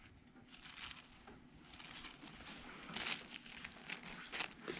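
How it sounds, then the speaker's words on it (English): Thin end paper crinkles and rustles softly while a hair roller is set for a magnet pivot roller set, a faint, close, steady papery crackle with no talking. "Bring in my roller and grab myself an end paper."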